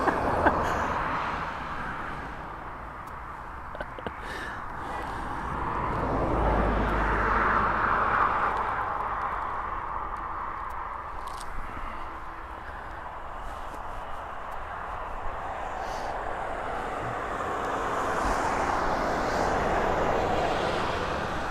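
A large aircraft powers up for takeoff at East Midlands Airport, its jet roar heard from a distance as a broad, steady rumble that swells and fades slightly over about twenty seconds, with no talk.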